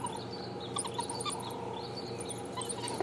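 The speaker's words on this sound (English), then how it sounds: "listen to this high-pitched twittering. It's almost bird-like." High-pitched twittering calls from African wild dog pups, almost birdlike, chatter in quick excited bursts over a steady insect buzz outdoors.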